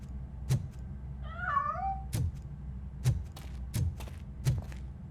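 A cat meows once, a clear drawn-out wavering call, in the video game Robocop Rogue City, followed by several heavy metallic footsteps thudding at a steady pace over a low ambient hum.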